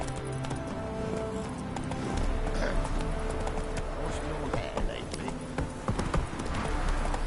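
A horse gallops in The Witcher 3, with steady rhythmic hoofbeats driving under continuous game ambience and music at moderate loudness, close up, without any clear voice over it.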